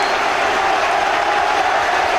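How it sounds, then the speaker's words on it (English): Aberdeen fans applaud and cheer after a goal at a 1997 Scottish League Cup semi-final against Dundee United, a dense, steady roar of stadium crowd noise with distant clapping blended into it. "the Aberdeen fans celebrate. So important that they struck back quickly, and Roy Aitken leads the applause"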